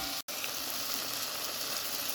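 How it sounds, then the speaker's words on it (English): Carrots, onions and tomatoes sizzle steadily in a pot as they are stirred, giving a constant close frying hiss with one very brief dropout near the start. "I'm just going to mix all that up real good"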